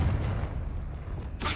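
Confringo blasting curse explosion in Hogwarts Legacy, the video game: a steady low rumbling boom holds throughout, then a sharp, bright burst strikes near the end.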